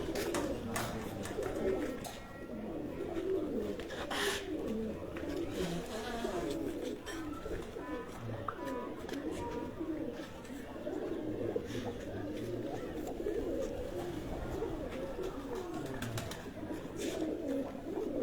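Breeder pigeons coo softly and steadily at close range, several low murmuring calls overlapping, with some rustling and a faint voice now and then.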